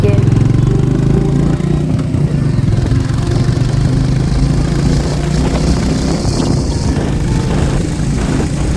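Motorcycle ridden on a highway toward Panskura in hot weather, producing a loud, continuous engine drone with heavy wind rumble that barely changes throughout.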